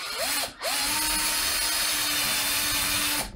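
A power drill bites into a rivet and grinds through it, a brief whine-up, a short pause, then a steady close high-pitched drilling run of about three seconds that spins down at the end.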